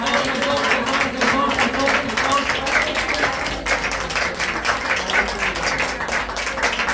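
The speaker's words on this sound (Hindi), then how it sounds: "हालेलुया ताली बजा के खुदा की महिमा करेंगे" A church congregation claps hands in praise, giving steady rhythmic clapping that runs throughout at close range, mixed with voices calling out over it.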